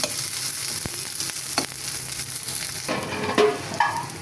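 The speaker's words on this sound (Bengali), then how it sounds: "পেঁয়াজ দিলাম, কাঁচামরিচ একটু ভেজে নিব।" Sliced onion and green chilies fry in a little oil, giving a close, steady crackling hiss. A few stirring knocks break in toward the end.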